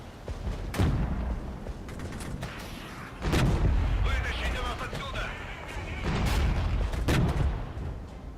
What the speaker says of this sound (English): let's get our artillery, our Akatsia, firing at all those positions